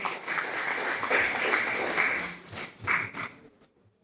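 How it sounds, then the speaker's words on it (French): Applause from a gala audience, strong at first and then thinning into scattered claps before fading out near the end. "Sous vos applaudissements,"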